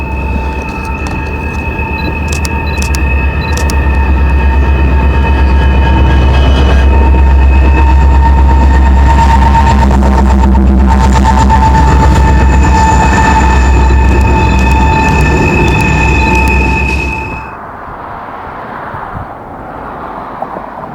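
Four-locomotive BNSF freight train crossing a bridge in Memphis, a loud continuous rumble with steady horn-like tones and rail clatter for over fifteen seconds before cutting away to quieter outdoor ambience.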